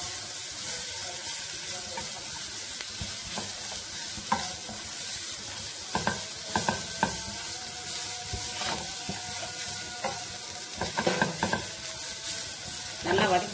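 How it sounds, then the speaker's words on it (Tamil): Carrot and cabbage sautéing in a pan, a steady close sizzle broken by frequent scraping stir strokes throughout, with no talking. "நல்லா வதக்கிக்கிறோம்."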